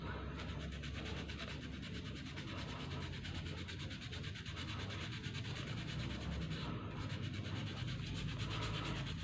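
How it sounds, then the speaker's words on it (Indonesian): Continuous scratchy rubbing of 400-grit sandpaper against a keris sheath, steady and close, with a fine repetitive back-and-forth texture. "Ini akan saya kupas dengan amplas 400."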